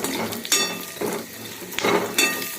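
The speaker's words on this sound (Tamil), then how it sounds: "சிம்மில் வச்சு ஃப்ரை பண்ணலாம்." Dry fruits frying in ghee in a pan for laddu, a soft steady sizzle broken by several spoon-stirring scrapes and light metal clinks against the pan, with no talking.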